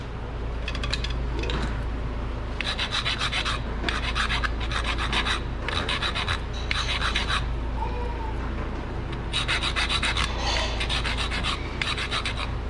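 Repeated rasping strokes come from a grinder shaping a brake pad to fit during a brake job on a 2016 Nissan Pathfinder, with rhythmic bursts over a constant low hum and no talking.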